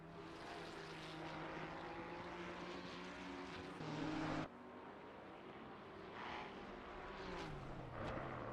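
A Porsche race car in a racing video game at Laguna Seca sends out a steady, loud engine drone that shifts pitch, cuts off abruptly midway, and returns with changing revs.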